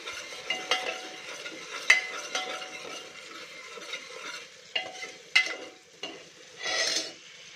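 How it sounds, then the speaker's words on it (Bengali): Spice paste sizzling in a pan over medium flame while being stirred, with intermittent scrapes and clinks of a utensil against metal over a soft frying hiss, close and fairly quiet. "তো এই মশলাটাকে আমি কষাচ্ছি ভালো করে।"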